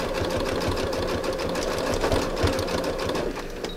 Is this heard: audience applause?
no